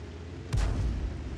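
A single heavy SU-14-1 self-propelled artillery gun shot in World of Tanks, loud, with a sharp onset and a deep rumbling boom that sustains and decays over the following second, with no voices over it.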